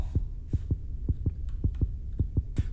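Heartbeat sound effect in the video game Granny: steady, deep thumping pulses, about a dozen beats in quick succession, close and prominent over a low hum, with no voices.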